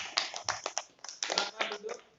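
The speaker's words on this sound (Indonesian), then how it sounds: "tepuk tangan buat kelompok 1" Classroom applause for a student group: a short burst of scattered clapping from several people, uneven and fairly close.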